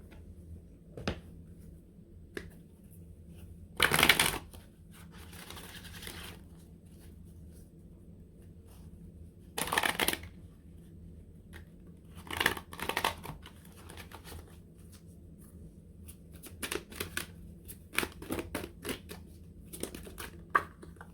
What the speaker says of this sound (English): I'm going to pull an Oracle card from the Rumi Oracle, because I feel like that's what you guys need.